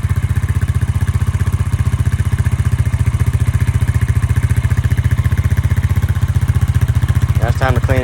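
A Honda ATV engine, long stored full of water, idles steadily after a carburetor cleaning, its loud, even low-pitched chug continuing throughout, with a brief higher mechanical whine near the end.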